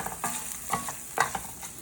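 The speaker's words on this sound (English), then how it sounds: "you could actually hear that the rice is getting the proper kind of a crunch on the outside" Rice toasting in a pan for risotto is stirred, giving soft repeated scraping and a light dry sizzle, with a few brighter crackles, all fairly quiet and close.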